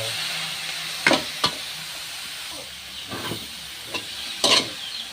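Carrots and then cabbage stir-fried for pancit, a soft steady sizzle and hiss with several sharp stirring scrapes of the spatula in the pan, close and alone.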